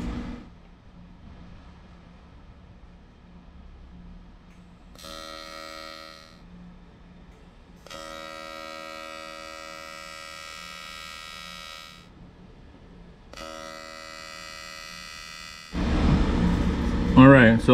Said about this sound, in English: Let me add weld.